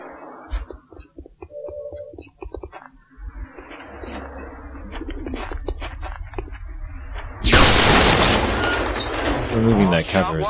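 Gunfire from the video game X-COM Enemy Unknown, with a loud burst of shots that comes in late over a low ambient game hum, after quieter clicks and effects.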